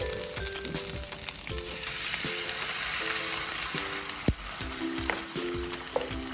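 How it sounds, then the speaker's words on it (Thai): Red curry paste being stir-fried in a pan before crocodile meat is added: a steady close sizzle with scattered scrapes and clinks of the spatula, while faint background music plays underneath. "แล้วก็ผัดต่อ ผัดให้พี่แกงฉุนเลยนะครับ"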